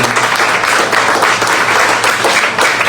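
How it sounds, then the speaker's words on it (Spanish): A church congregation claps during a service, giving loud, sustained, dense applause that keeps a steady level for the whole span. "Pues dale otro aplauso al Señor."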